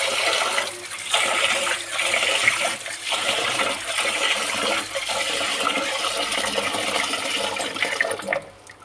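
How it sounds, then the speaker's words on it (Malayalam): Rice being washed in water in a home kitchen, a continuous splashing and sloshing rush of water that swirls steadily for several seconds before easing off at the end. "നന്നായിട്ട് കഴുകുക അരി"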